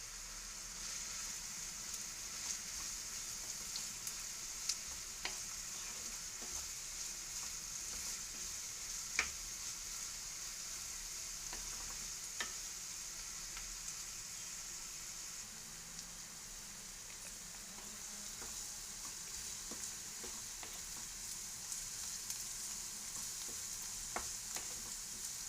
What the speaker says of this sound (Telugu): ఆయిల్ హీట్ అయిన తర్వాత 1 కప్ ఆనియన్స్, గ్రీన్ చిల్లీస్ వేసుకుని వేయించుకోవాలి.